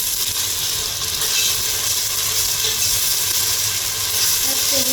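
Browned onions fry loudly in a pan as garlic paste and ginger paste go in for biryani, a dense, constant sizzle and hiss close by with no break.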